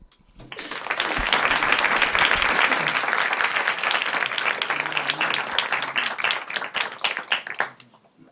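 An audience at a Nobel Peace Prize event claps to welcome two guests from Memorial, a full, steady round of applause that swells quickly, holds for several seconds and tapers off at the end.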